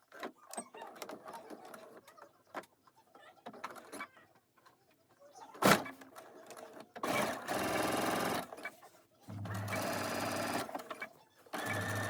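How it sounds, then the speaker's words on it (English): A sewing machine stitching around the top binding of a bag and catching the handles; two loud close bursts of rapid mechanical whirring, after quieter handling clicks and rustles, with birds cooing faintly in the background. "So we're going to stitch around the entire bag again, but at the top of that binding, and we're going to catch those handles in it."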